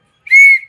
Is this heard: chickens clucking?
no